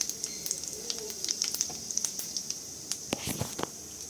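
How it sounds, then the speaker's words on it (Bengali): White cumin seeds are dropped into hot oil, giving a soft, crackling sizzle with scattered sharp pops and spits, fairly close and without any talk. "এরপর আমি এই তেলের মধ্যে একটু সাদা জিরে অ্যাড করে"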